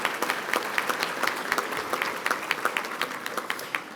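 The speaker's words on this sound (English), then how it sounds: "Can we please have a great round of applause for our sponsors?" An audience claps for the sponsors at a regional chamber awards event, a steady round of applause from a modest crowd in a hall with sharp individual claps audible.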